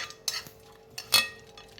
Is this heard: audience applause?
no